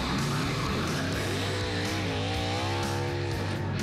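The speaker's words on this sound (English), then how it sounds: "Meet Fastenal Racing's number 99 Ford Fusion, driven by Carl Edwards, 57-time winner in NASCAR's top three series" Fastenal Racing's number 99 Ford Fusion NASCAR race car with a V8 roars close and loud, a steady harmonic engine drone that sweeps up and down in pitch as it revs.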